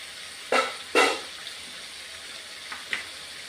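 Garlic paste dropped into spices frying in a pan for a Bengali mutton curry with papaya gives two sharp, loud sizzling bursts close together, then fades to a low background hiss with a couple of faint later crackles.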